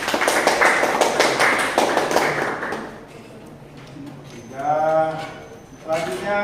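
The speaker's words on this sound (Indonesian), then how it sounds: "Kita kasih aplaus kelompok 3." Classroom applause for a student group, many hands clapping briskly for about three seconds at close range, then fading out as voices talk afterward.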